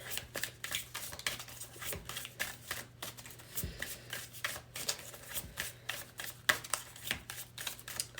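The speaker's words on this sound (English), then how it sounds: "My hands missed shuffling." An oracle card deck is shuffled by hand up close in quick, repeated riffling bursts, a soft papery slapping rhythm with no talking.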